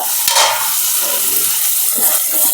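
Amaranth leaves frying in a pan, cooked in a yogurt tempering: a steady close sizzle with soft scraping stir sounds and a few light clicks, no talking.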